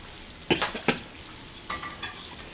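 Kuzhi paniyaram frying in hot oil in a pan, a steady close sizzle with a few sharper crackling bursts and stirring scrapes, no voices.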